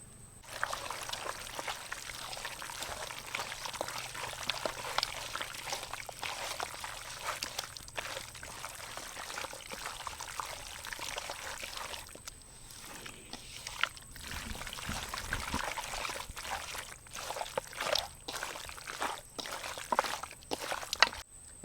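Mustard oil poured into a clay pot (mati handi) over marinated mutton with garlic, tomato paste and mustard paste, a steady close trickle and slosh running continuously with no talk.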